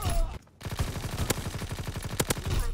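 Rapid automatic gunfire in Call of Duty Black Ops 4, a brief pause and then a fast even burst of close shots with a few sharper cracks. A player speaks over it.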